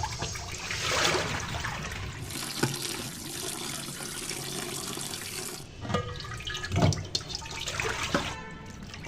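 A tap runs steadily nearby while goat tripe is rubbed and sloshed under the flow, with occasional splashes and clunks.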